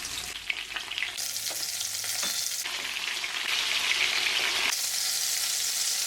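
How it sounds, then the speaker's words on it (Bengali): Steady, dense sizzling of fish frying in hot oil in a pan over medium heat, loud and close, with a few soft clinks and a brief stir midway. "তারপর রান্নার তেল দিয়ে দিচ্ছি মাছ ভাজি করার সময় চুলাটা মিডিয়াম আঁচে রাখবো"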